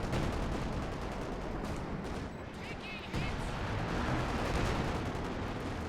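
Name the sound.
artillery fire in video game Company of Heroes 2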